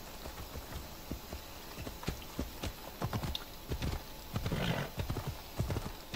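A horse in Assassin's Creed Odyssey clip-clops along in a steady, fairly loud hoof rhythm, with an occasional snort or whinny and some surrounding game ambience; no talking.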